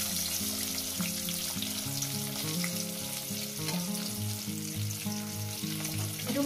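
Eggs fry in a pan for a spicy egg curry, a continuous close sizzle with steady crackling throughout and a constant tonal hum in the background.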